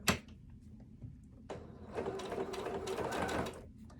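A sewing machine stitches fabric while sewing a notepad, starting with a quick mechanical clack and a pause before a steady whirring run of stitches that stops near the end.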